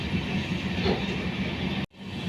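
The 13126 Sairang–Kolkata Express rolls slowly into Murshidabad station with a steady rumble and soft wheel clatter, briefly cut off near the end.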